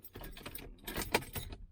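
Car keys jangle in the ignition of a 1968 Chevrolet Nomad: a close, fairly quiet run of bright metallic clinks in several short bursts, with one sharper clink near the end.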